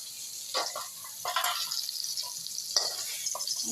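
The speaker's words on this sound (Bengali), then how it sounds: "এই যে হাফ করে ভেজে নিচ্ছি পটলগুলো" Pointed gourd slices being half-fried in oil in a kadai, a soft continuous sizzle broken by several bursts of stirring and spatula scrapes, close and fairly quiet with no talking.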